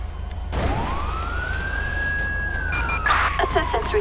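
An ambulance siren in the video game Grand Theft Auto V rises into one long wailing sweep and then falls, loud and close over steady background traffic noise.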